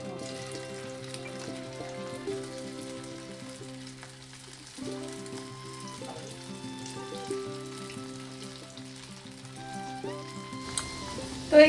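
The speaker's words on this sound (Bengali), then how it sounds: "এই যে প্যান বসিয়ে দিয়েছি, সাদা তেলে একটু ভাজবো।" Sabudana fritters fry in white oil in a pan with a soft, continuous sizzle and light crackle under a steady tonal hum, ending in a short louder burst.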